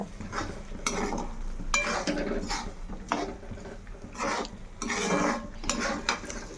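A spoon scrapes and rasps against a pan while kaju paneer curry is stirred, in repeated strokes of about a second each, close and fairly loud, with no voices.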